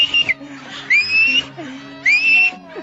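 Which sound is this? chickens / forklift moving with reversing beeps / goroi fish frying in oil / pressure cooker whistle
pressure cooker whistle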